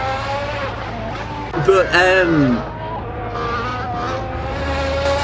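Formula 1 cars at pre-season testing race past the line, a loud engine whine that sweeps upward and then falls away, heard under a commentator speaking throughout.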